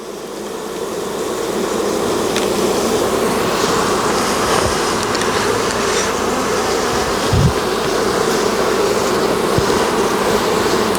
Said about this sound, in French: Elles vont avoir tendance à secouer les ailes pour éliminer les gouttelettes d'acide.